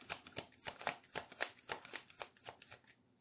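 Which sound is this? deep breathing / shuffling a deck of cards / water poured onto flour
shuffling a deck of cards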